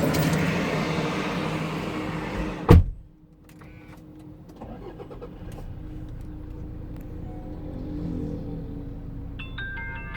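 The door of a 2017 Toyota Fortuner 2.8 TRD lands with one sharp, loud thud, and the cabin falls quiet straight after. A faint hum and a few small clicks follow inside the car.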